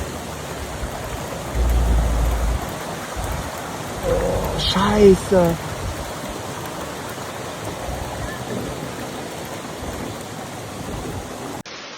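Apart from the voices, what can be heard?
heavy rain and floodwater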